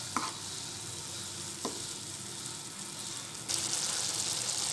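Garam masala gets stirred with a little water in a pan over a soft steady sizzle, with a few light scrapes of the spoon and a brighter hiss toward the end.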